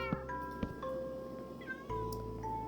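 A cat in the game Minecraft meows a couple of times, short and fairly clear, over soft sustained in-game tones.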